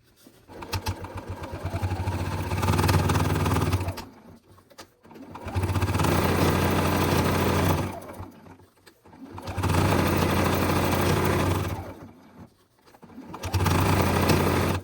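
Sewing machine top stitching a small quilt block coaster, running in four steady bursts of a few seconds each with short quiet pauses between, close and fairly loud with no talk.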